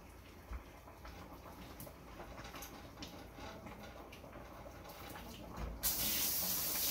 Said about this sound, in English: Rinse the jar off.